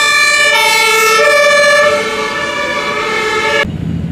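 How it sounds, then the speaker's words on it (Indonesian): An ambulance siren wailing loud and close with a steady, strong tonal cry that shifts pitch partway through, then cuts off abruptly near the end, leaving engine rumble. "Wow, lihat teman-teman, ada mobil ambulan."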